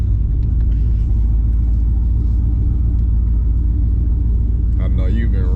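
A custom turbocharged Dodge Charger Scat Pack 392 pulls hard under boost, a loud, constant low rumble dominating throughout, with a brief rising whine near the end.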